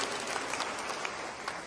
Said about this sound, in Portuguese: Vamos então aplaudir a nossa história.